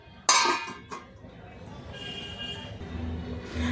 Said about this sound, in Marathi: आता याच्यावर आपण 2 मिनटं झाकण ठेवून घेणार आहोत